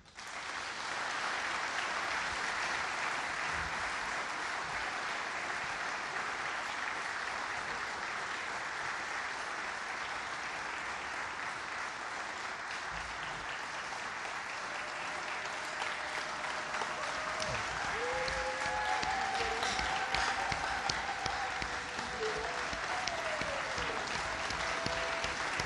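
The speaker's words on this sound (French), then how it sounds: "Et je vous demande de bien vouloir l'applaudir." A seated audience gives a minister long, even applause at a science-themed ceremony. The clapping is continuous and moderately distant, with faint voices rising briefly near the end.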